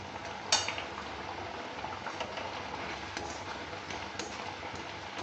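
Mango chutney bubbling and thickening in a pan while being stirred, a steady soft sizzle and simmer with a sharp utensil knock near the start and faint scrapes throughout, no voices.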